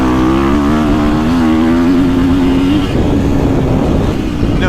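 Dirt bike engine, a KTM 450 or Husqvarna FC350 four-stroke, roaring loud and close throughout, its pitch climbing steadily under acceleration, then settling to a steady drone after a brief dip near the end.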